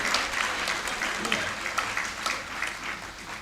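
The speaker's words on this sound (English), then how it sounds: "Please, can you give us an applause?" Steady applause from the audience at a university congregation ceremony in Ghana, continuous clapping with some talk mixed in underneath.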